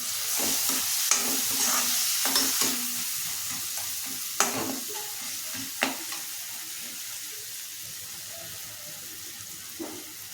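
Tomatoes and four garlic cloves fry in a pan for a tamarind and coconut chutney: a continuous close sizzle with occasional spoon scrapes and a few sharp clicks, no talking.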